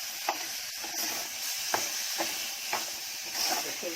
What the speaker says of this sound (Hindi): इसको ऐसा थोड़ा भूनने का अच्छे से।